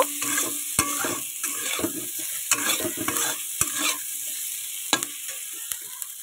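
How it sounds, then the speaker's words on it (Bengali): Fried prawns go into a hot pan of helencha greens over a raised gas flame and are stirred. A constant hiss of frying runs under sharp scraping and clacking hits from the spatula at an irregular pace, close up and with no talking. "এবার যে চিংড়ি মাছগুলো আমি ভেজে রেখে দিয়েছিলাম, আমি সেটা এর মধ্যে দিয়ে দেব।"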